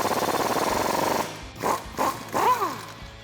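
Steady rapid impact-wrench rattle as a 21mm socket on an extension spins out a track bar bolt on a Jeep Wrangler JK. The buzz runs for about a second, then stops, and a few short metallic clunks follow.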